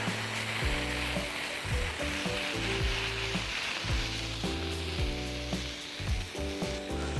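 A cheeseburger patty sizzles steadily on a Blackstone griddle, with a continuous bright hiss and low thumping pan noises throughout, close and fairly loud.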